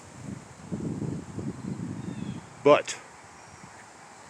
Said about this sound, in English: It's very windy out here this morning.